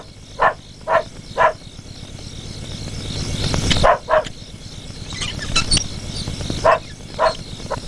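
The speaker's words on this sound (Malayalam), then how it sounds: "കുരയ്ക്കുന്നുണ്ട്" A dog barks in short sharp bursts, three quick barks, a pause with louder clattering noise, then more single and paired barks, fairly close over a faint steady background of night insects.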